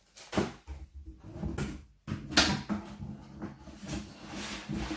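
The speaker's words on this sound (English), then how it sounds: "So let's open up the helmet." A motorcycle helmet is unpacked and opened at close range, with a few sharp clunks and knocks of handling separated by quieter rustling moments.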